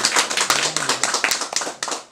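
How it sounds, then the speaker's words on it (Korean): An audience at a lecture claps together in a quick, dense patter of hand claps lasting a couple of seconds, close and steady, with no one speaking. "자, 같이 박수 한번 주고"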